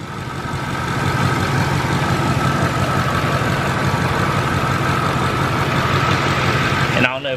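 A Nissan Y33 engine idles steadily and close by while its coil packs are unplugged, a constant low hum running for several seconds before a brief shift near the end.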